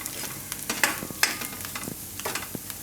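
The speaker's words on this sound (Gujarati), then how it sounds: "આ બધું મસાલો મિક્સ કરીએ એટલે બરે નહીં એમ." Peri peri masala stirred in a pan over a low gas flame for a roti snack gives soft scraping and tapping strokes: irregular, moderately close clicks and scrapes with faint sizzling beneath, and no talking.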